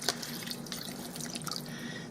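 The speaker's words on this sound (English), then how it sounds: "you're going to pour enough water in there to cover" Water pours from a container into a 4-quart pressure cooker over dry spaghetti, a light, steady trickle with faint splashes and drips, close and alone.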